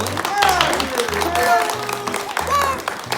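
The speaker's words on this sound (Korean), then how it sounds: "자, 친구분들 다시 박수!" Wedding guests clapping together in rhythmic bursts at a Korean wedding ceremony, with music or singing carrying through and clear, close claps in regular groups.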